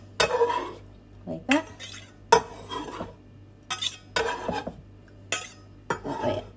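Chili con carne is scooped from a pan with a knife in a series of clinking metal scrapes and knocks against the pan. A person speaks briefly among the sounds.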